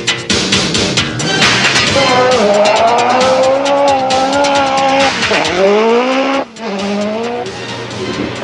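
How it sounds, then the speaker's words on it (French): A 1989 rally car roars up the Pikes Peak hill climb, its engine loud and close, rising and falling through gear changes with tire squeal and skidding on the corners and a brief dip near the end. "Harri Vatanen dans la montée"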